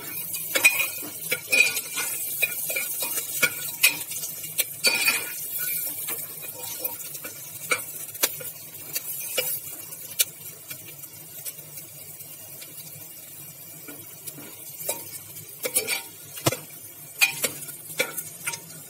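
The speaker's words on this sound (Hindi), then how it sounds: "we will keep on stirring it till it becomes light brown" Garlic frying in a pan for vegetable soup is stirred until light brown: a continuous hiss of sizzling under repeated scraping and clinking of a utensil against the pan, with no talking.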